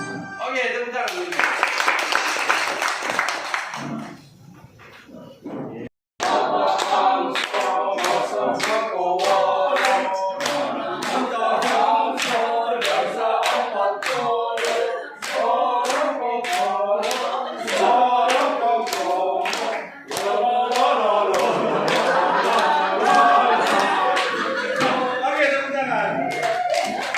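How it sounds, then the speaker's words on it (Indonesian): Teachers at an Indonesian teachers' workshop clap together in a steady, rhythmic beat that goes on for a long stretch after a short pause, with some voices mixed in. "Oke, tepuk tangan."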